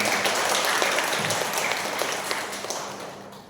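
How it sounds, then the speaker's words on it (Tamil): An audience at a law aspirants' meet applauds with dense, steady clapping that fills a few seconds and tapers off slightly toward the end. "அவர்களை அன்போடு மீண்டும் வருவரை கரவொலி எழுப்பி பாராட்டுவோம்."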